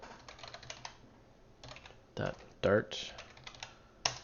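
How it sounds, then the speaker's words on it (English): Computer keyboard typing, quick bursts of clicks and a few louder key strikes, with a brief spoken word partway through. "I'm just kind of typing"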